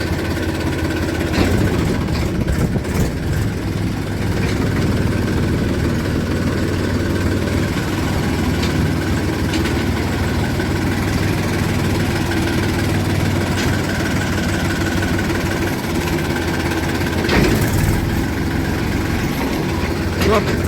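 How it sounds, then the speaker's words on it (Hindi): A tractor in third gear pulls a bouncing trolley along a road, its engine a steady, loud, low drone with rattling vibration throughout and no clear talk. "दोस्तों तीसरे गियर में लगा दिया ट्रैक्टर, ट्रॉली ज्यादा कूद रही है।"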